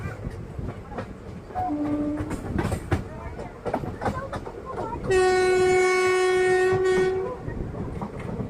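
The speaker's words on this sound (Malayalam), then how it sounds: "നമ്മുടെ ട്രെയിൻ എങ്ങനെയാ അപ്പം കല്ലായി റെയിൽവേ സ്റ്റേഷനിലോട്ടാണ് ഇപ്പോൾ ഇത് എത്തിക്കൊണ്ട് നിൽക്കുന്നത്" An intercity train arrives at Kallayi railway station, wheels clattering and rumbling close by before a long, loud horn blast sounds near the end.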